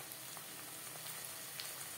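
Green chilli paste hits hot oil with fried onion and garlic for chela fish curry, giving a steady, close, broadband sizzle and crackle that holds evenly for two seconds with no voices.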